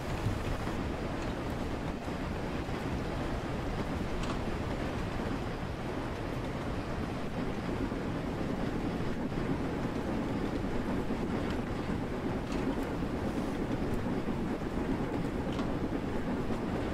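A steam train in Train Sim World 2 rolls toward a stop, a steady moderate rumble of wheels and rail clatter with no talk, holding an even level throughout.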